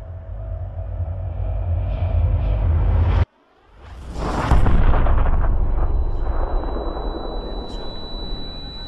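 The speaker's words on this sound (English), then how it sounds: "And I hear this incredible explosion." A loud explosion as a plane crashes into a tower, with a sharp cut to near-silence followed by a heavy, sustained roaring rumble and crackling debris that persists at high level.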